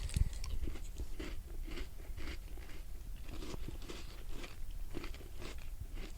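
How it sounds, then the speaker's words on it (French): Crunchy butter cookies bitten and chewed close up as a snack, a steady run of crisp crunches and chewing sounds repeating for several seconds without talk. "Attends, je prends un petit goûter."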